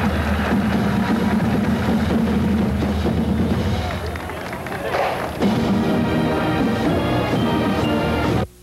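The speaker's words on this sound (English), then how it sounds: "Let's listen as they play a trooper salute," A high school marching band plays a patriotic trooper salute medley at a parade, a dense, loud wash of brass and drums with crowd noise mixed in, continuous until it cuts off abruptly.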